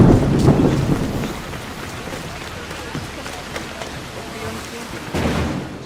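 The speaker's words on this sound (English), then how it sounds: "a lightning storm, on the other hand, feels far more powerful" Thunderstorm weather in Assassin's Creed Odyssey: steady rain hiss with heavy low thunder rumbles near the start and again near the end, a powerful storm ambience.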